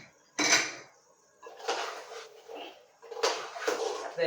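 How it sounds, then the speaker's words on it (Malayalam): Chicken biryani being stirred in a pot, three separate bursts of metal spoon scraping and clattering against the vessel with quiet gaps between them, close and loud. "ഒന്ന് ഇളക്കി നോക്കാം, ഇല്ലെങ്കിൽ ചിലപ്പോ വടിയിൽ പിടിക്കും"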